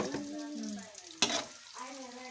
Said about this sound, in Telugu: కలుపుకోవాలి బాగా ఫ్రై కావాలి ఉల్లిగడ్డ పచ్చిమిర్చి బాగా ఫ్రై కావాలి